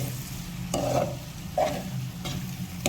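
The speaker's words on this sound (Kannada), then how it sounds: "ಈಗ ಇದನ್ನು ಚೆನ್ನಾಗಿ ಮಿಶ್ರಣ ಮಾಡ್ಕೋಬೇಕು." An egg mixture being stirred in a bowl, with a steady scraping and whisking texture and a couple of brief louder clinks, close and continuous with no talking.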